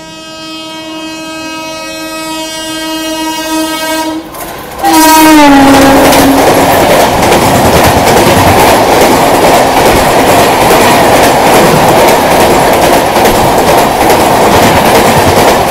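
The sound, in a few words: Anand Vihar–Ballia Superfast Express train passing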